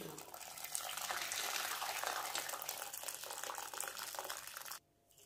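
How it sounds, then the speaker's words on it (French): Hot water pours into a bowl of seeds in a steady, close, splashing gush that lasts nearly five seconds, then cuts off abruptly into near silence. "Je vais rajouter de l'eau chaude."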